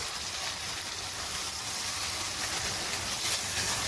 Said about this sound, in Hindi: इसको दोबारा से मसाले के साथ भूनना है